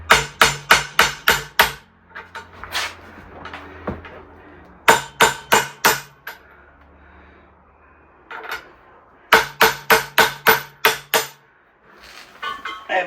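Hammer blows on metal during transmission and driveshaft installation on a 1961 Mercury Comet: three rapid bursts of sharp, loud strikes, five or six hits each, with quieter clanks in between.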